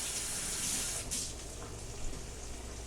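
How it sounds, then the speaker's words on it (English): Hands washed under a running kitchen tap while cooking pesto shrimp pasta, a steady close hiss of flowing water with a brief splashy surge partway through, no voices. "Let me wash my hands."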